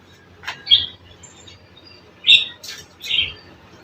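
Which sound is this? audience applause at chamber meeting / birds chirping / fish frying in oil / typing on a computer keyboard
birds chirping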